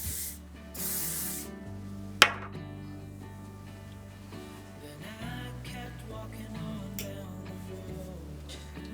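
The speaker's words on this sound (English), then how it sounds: "Spray again." Hairspray sprayed from an aerosol can onto curled hair, one loud sustained hissing burst near the start over steady background music, followed by music with faint rubbing.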